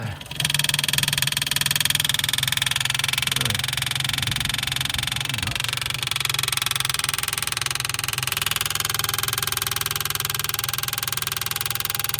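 An electric pump drawing old fuel out of a Ford Mustang Mach 1 fuel line, a steady droning hum with a faint throbbing pulse that runs the whole time at an even level.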